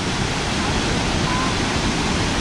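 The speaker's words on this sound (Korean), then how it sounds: "빙하에서 내려오는 물들이 이렇게 폭포가 돼가지고 이렇게 내려오는 거예요" Glacier meltwater waterfall at Mount Baker, a steady, dense roar of falling water filling the air without pause, close and fairly loud.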